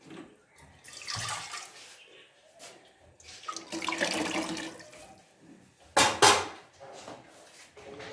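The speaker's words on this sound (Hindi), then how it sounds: "थोड़ा सा पानी डाल के खंगाल ये भी मैं डाल दूँगी" Water is splashed and poured into a cooking pot to rinse out spice paste for pakora kadhi, with a few short sloshing bursts and a sharp louder splash near the end.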